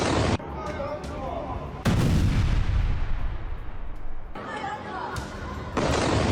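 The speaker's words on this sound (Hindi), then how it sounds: "सेंट्रल गाजा में इजरायल की भयंकर बमबारी" Artillery and bombardment in central Gaza: heavy, broadband blasts that roll on for several seconds, with loud bursts at the start, middle and end of the clip.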